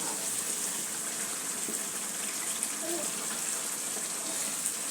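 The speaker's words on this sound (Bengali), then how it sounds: "মাংসগুলো ভালো করে কষানো হচ্ছে।" Meat sizzles in a pan with ginger, spices and green chillies, a soft, continuous frying hiss at low volume with no clear breaks.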